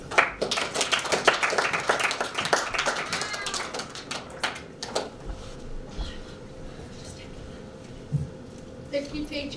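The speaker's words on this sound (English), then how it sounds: "let's give Ethan and Max a big clap" A school assembly audience of students and teachers claps for two pupils, a dense burst of hand claps over the first half that thins out and fades into a quieter room hum.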